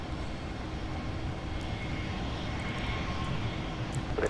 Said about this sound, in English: Denver 4988 gracing the south parallel runway with a CRJ 700.